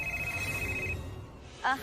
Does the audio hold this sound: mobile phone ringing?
yes